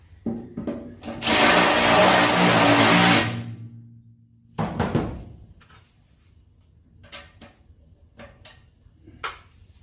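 A power drill enlarges a drilled hole to fit a rivet nut, with one loud, steady grinding burst of about two seconds, then a shorter rougher burst, followed by scattered clicks and handling noises.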